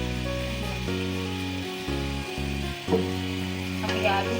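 Chopped tomatoes hitting hot masala in a pan for aloo gosht, a loud close sizzle and frying hiss with stirring scrapes, alongside a steady droning hum from nearby equipment.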